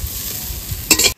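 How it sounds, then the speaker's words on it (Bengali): Ghatkol (kharkol) leaves frying in a pan with oil, a steady low sizzle and stirring that swells into a louder, brighter crackle near the end before stopping abruptly. "এবার আমি ঘাটকলটা ভেজে নেবো।"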